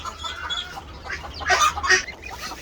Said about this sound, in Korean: 아 얘네들이 기러기구나